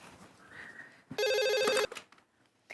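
A short electronic telephone ring sounds once, bright and steady for under a second, amid quiet room noise.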